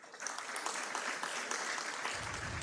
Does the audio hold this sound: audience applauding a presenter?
yes